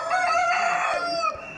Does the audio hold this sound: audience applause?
no